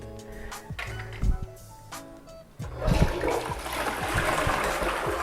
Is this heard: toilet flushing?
yes